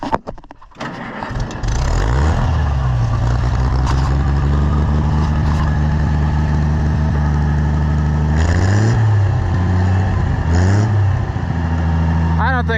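An old engine with a carburetor not yet fully adjusted starts up and runs steadily and loudly close by, its idle rising and dipping unevenly in a couple of surges.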